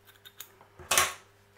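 Sterilised scissors snip while an orchid is being remounted, several faint light clicks followed by one louder, sharper cut close by.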